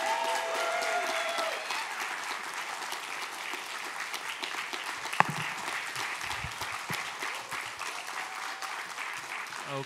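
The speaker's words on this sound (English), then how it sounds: "I want you to applaud now for option B." A conference audience at a Wikipedia event applauds to vote for an option, with broad sustained clapping lasting around ten seconds, scattered voices and a whoop rising over it, and one sharp knock in the middle.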